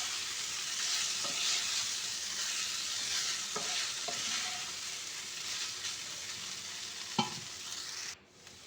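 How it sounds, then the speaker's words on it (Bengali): Flattened rice (chira) is stirred through a hot pan for chira biryani, giving a steady broad sizzle with a few soft scraping knocks at scattered moments, then the sound cuts off abruptly near the end. "চিঁড়েটা দিয়ে আমি খুব ভালো করে নেড়ে চেড়ে মিশিয়ে নেব"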